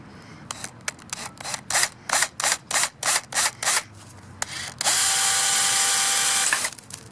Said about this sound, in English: so I'm just going to use my cheapy Black & Decker drill here. We're going to try to drill straight through this.